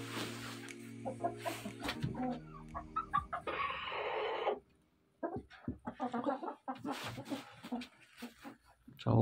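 Chickens cluck inside a coop during egg collection, in scattered short calls mixed with rustling and handling noises, with a person talking intermittently nearby.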